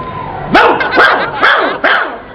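A man imitates a dog, letting out four loud, near bark-like yelps at an even rhythm, with no other talking.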